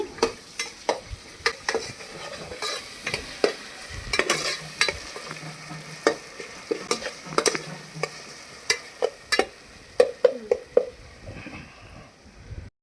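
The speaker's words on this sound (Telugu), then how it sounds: "2 టేబుల్ స్పూన్ అల్లం వెల్లుల్లి పేస్ట్ వేసుకొని పచ్చివాసన పోయేంత వరకు ఫ్రై చేసుకోవాలి" Ginger garlic paste and onion frying and being stirred in a pan over a wood-fired stove, a steady sizzle broken by repeated sharp scrapes and clinks of the spoon, close and fairly loud, with no talking.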